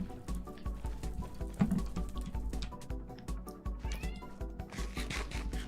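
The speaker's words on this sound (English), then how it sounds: "My cat is meowing at me." A cat meows repeatedly in the video game Minecraft, with short, high, whiny cries over a busy backdrop of soft clicks and patter.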